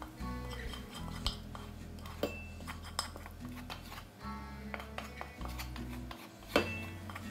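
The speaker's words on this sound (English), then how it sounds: "So, now let's transfer the sauce to a serving bowl." Chocolate fudge sauce for Brazilian brigadeiros is scraped from a pan into a serving bowl, with soft utensil scrapes and occasional light clinks against cookware over a steady low background hum.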